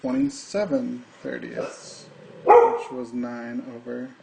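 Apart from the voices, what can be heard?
dog barking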